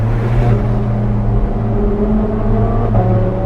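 An Alfa Romeo 4C sports car drives fast along a twisty road near Monaco, its engine a steady loud low drone heard from close by, with no voices.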